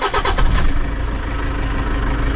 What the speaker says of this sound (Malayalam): ഇനി നമുക്ക് വണ്ടി സ്റ്റാർട്ട് ചെയ്ത് നേരത്തെ ചെയ്ത പോലെ സൗണ്ട് വ്യത്യാസം ഉണ്ടോ എന്നുള്ളത് അറിയാം.